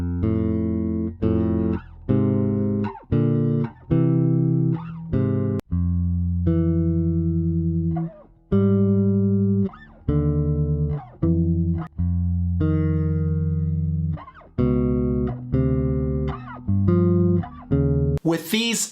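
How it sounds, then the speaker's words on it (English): Bass guitar alone playing two-note chord shapes in thirds and sevenths, a loud, steady sequence of plucked double stops in a funky rhythm with short gaps between chords, close and clear. "you can clearly hear the chords over the chorus with just bass and no keyboard or guitar"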